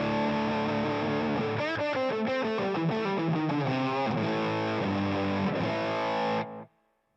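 An electric guitar played through a Mythos overdrive pedal set to fat mode rings out thick, distorted chords and a run of shifting notes, loud and alone, then cuts off abruptly.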